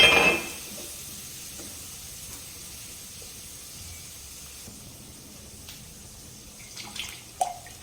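Water splashes into a hot pan of spinach puree for garlic spinach khichdi with a brief louder burst, then settles into a steady hiss and simmer, with a few faint clinks near the end.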